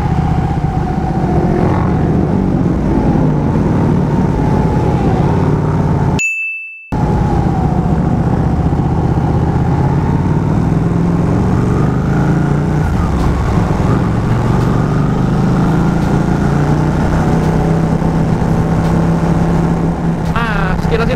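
A Ducati Panigale Tricolor is ridden on a group morning ride, its engine droning steadily under wind noise with a short dropout partway through, while a rider talks over it.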